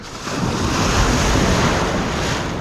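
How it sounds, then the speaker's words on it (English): Ocean waves breaking on the shore at the sea's edge, a loud continuous rushing wash with wind buffeting the microphone, no voices. "You've still got these waves though"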